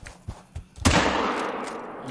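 A couple of soft clicks, then a single sharp rifle shot booms and rings out into a long, rumbling echo that slowly fades, in the hunting video game theHunter: Call of the Wild.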